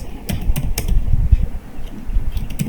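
Typing on a computer keyboard while writing Python code, a short run of light, close key clicks at an uneven pace, heard on its own.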